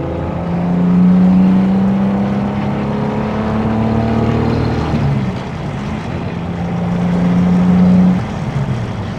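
A 1963 Jaguar E-Type coupe accelerating on the road, its engine droning steadily and loud from inside the car, the pitch climbing through a gear before easing off near the end.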